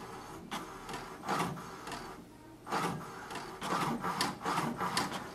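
An HP DeskJet 4133e printer aligns its ink cartridges with a series of soft mechanical whirs and rubbing passes that rise and fall in uneven bursts, quiet and close.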